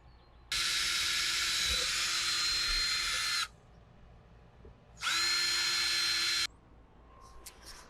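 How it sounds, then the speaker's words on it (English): A power drill boring holes in a wall for 12 mm anchors, two loud, steady high-pitched whining bursts close by, the first about three seconds long and the second about a second and a half, separated by a quiet gap. "All right, we got our holes drilled out"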